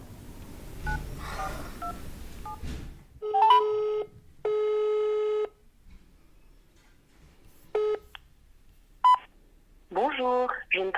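A telephone is dialed and rings: faint tones under a voice, then a few loud, steady rings or tone bursts separated by silences, and a short flurry of beeps at the end.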